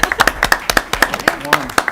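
Applause at a county commission meeting for code officials: a few hands clap in a quick, uneven rhythm, close and fairly loud, with talk mixed in.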